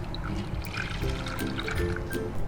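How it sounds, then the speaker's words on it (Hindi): Egg and Marie biscuit batter pours into a greased mould for a steamed pudding, a soft, continuous trickling flow with faint dribbles, close and steady throughout. "जो अंडे और मैरी बिस्किट का जो बैटर है वो इसमें डाल दें।"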